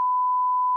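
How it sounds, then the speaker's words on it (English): A single steady censor beep, a pure loud tone held for nearly a second and cutting off abruptly, with no voices over it. "Beep."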